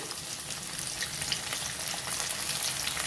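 Chopped onions and green chillies sizzle in hot oil in a pan, a steady crackling fry with faint stirring scrapes, close and alone.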